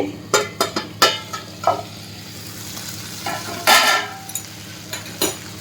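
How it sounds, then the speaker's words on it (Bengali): Spiced fish simmers in a pan with onion, garlic and ginger masala. A lid comes off, then a spoon clacks and scrapes in a run of close, sharp stirring knocks over a constant low sizzle. "তারপর 5 মিনিট পর আমি ঢাকনা খুলে নাড়াচাড়া করব।"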